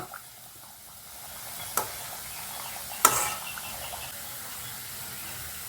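Continuous soft bubbling sizzle of vada frying in hot oil, with two sharp metallic clicks partway through, heard close up without speech.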